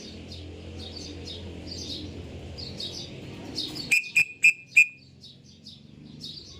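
Several birds chirp and tweet over a low outdoor rumble, with quick high calls scattered throughout and a burst of four sharp, loud whistled chirps near the middle.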